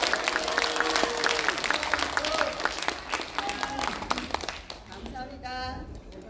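An audience at a Korean political speech applauds in a dense, steady wash of clapping, with a voice speaking over it and fading toward the end.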